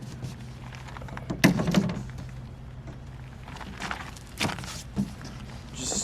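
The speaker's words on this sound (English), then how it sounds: "Just trying to do the final fittings on the door." Door hardware on a van being converted into a home is fitted and worked, giving a sharp thunk followed by several softer knocks and clicks in a quiet interior, with no talking.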